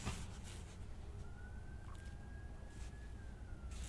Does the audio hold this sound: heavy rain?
no